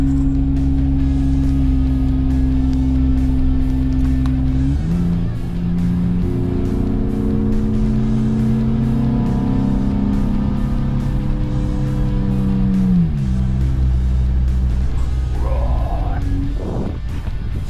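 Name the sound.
Nissan Xterra 4x4 engine and exhaust climbing steep mountain road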